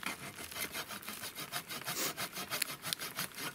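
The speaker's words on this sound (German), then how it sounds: "Ich nehme jetzt hier ein Haselstück. Spann das ein und säge jetzt schräg." Rhythmic back-and-forth sawing through a clamped piece of hazel wood using the saw edge of a cheap spade, with close, steady, rasping strokes at a brisk, even pace and no talking.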